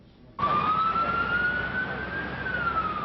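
Emergency vehicle siren wailing among rows of ambulances in New York City during a mass-casualty terrorist attack, starting abruptly and holding a loud, steady, slowly rising tone close by.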